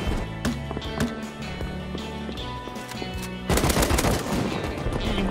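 Gunfire in Rust: rapid bursts of automatic weapon shots crackle at close range, the firing growing denser and louder toward the end, with no talking.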